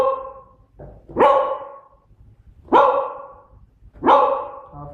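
A beagle barks three times in a row on command, with short, sharp barks spaced about a second and a half apart, close by, after a faint whimper.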